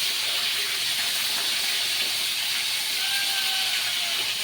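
Boal fish heads frying in hot oil, a dense, even hiss of sizzling that holds steady throughout, loud and close with no speech.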